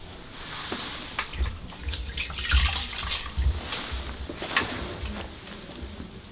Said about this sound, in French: Nous rinçons avec des éponges.